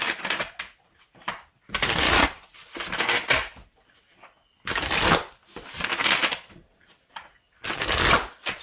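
Tarot cards are shuffled by hand in repeated bursts of riffling and flicking, close and crisp, with short pauses between each round and no talking.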